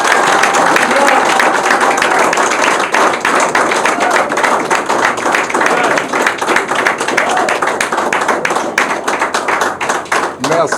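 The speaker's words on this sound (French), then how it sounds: "Je voulais qu'on applaudisse pour lui et qu'il nous regarde" Sustained audience applause, a dense, loud, continuous clapping with distinct hand claps throughout, under a crowd at a political press event, with a voice faintly mixed in.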